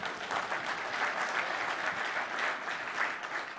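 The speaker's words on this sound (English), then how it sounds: "You're supposed to applaud for that." An audience at a PDC 2008 developer conference session on Team Foundation Server 2010 breaks into steady, dense applause that holds evenly through the whole stretch, with no one speaking over it.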